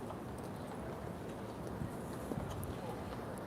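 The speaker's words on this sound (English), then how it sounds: "there's a horse. There's the. coming out of the stable." Horse hooves clip-clopping on a New York City street as a horse leaves its stable, a steady loose rhythm of hoof strikes under constant city traffic noise.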